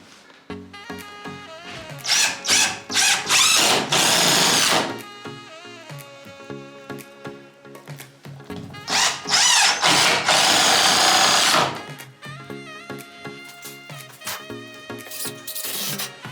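A power drill drives 3-inch screws into a shed's window frame: two long, loud whirring bursts that rise and hold, separated by quieter stretches with some background music.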